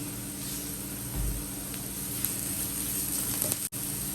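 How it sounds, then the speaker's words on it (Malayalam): Onions, curry leaves and green chilies sizzle steadily in a hot pan for a quick tuna rice lunch, a continuous soft frying hiss at moderate volume with no talk. "നമുക്കിനി നമ്മുടെ ഉള്ളിയും കറിവേപ്പിലയും പച്ചമുളകും കൂടെ ആദ്യം ഇട്ട് കൊടുക്കാം"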